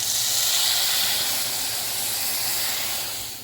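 A hot oil tempering with coriander-cumin powder and red chili powder poured into cooked whole mung dal gives a loud, continuous sizzling hiss that holds steady, then tapers off toward the end.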